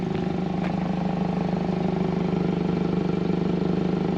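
A 2023 Hyundai Kona N engine holds a loud, close, steady drone with a strong low rumble and layered harmonics, running continuously without a break and with no voices.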